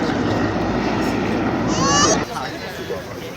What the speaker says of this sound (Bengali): এই তো হেলিকপ্টার বাহিনী উঠে গেছে পুরো থেকেই তো দেখাইতে হবে না এক দুই তিন চার পাঁচ ছয়টা হেলিকপ্টার